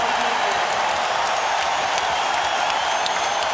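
A dense, loud Indiana Pacers home crowd at Game 4 of the 2000 NBA Finals against the Lakers roars continuously, with a constant wash of cheering and chatter and no breaks.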